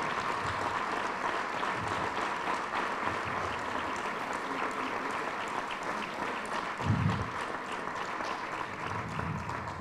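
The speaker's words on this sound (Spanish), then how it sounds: "el aplauso del público que está aquí" Applause from the audience at a civic education course event, a steady, unbroken wash of clapping that holds at even loudness throughout, with a brief low thump near the end.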